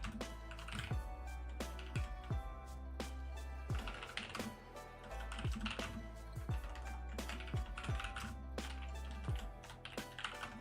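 Steady typing on a computer keyboard, with quick clustered key clicks and brief pauses, close and clear with a low hum underneath, and no speech.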